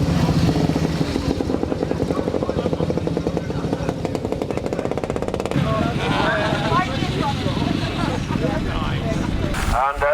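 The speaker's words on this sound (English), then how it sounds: "You can see on this one that the engine is turning, but the saw blade isn't." Close by at a steam rally, a steam engine runs a belt-driven saw bench cutting firewood, giving a steady rhythmic mechanical chuffing and clatter that continues with no talk over it.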